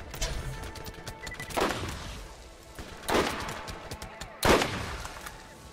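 A rocket launcher firing in the video game Borderlands, three loud booming blasts spaced about one and a half seconds apart, each with a rumbling tail, over game background noise with no talking.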